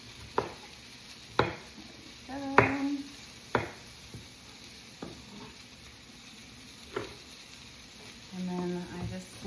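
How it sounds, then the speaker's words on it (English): A knife cutting a broccoli stem into bite-sized pieces on a board, with sparse, sharp chops spaced a second or two apart over a low background hiss. "I'm gonna cut this down to bite-sized pieces, but I actually love using the stem"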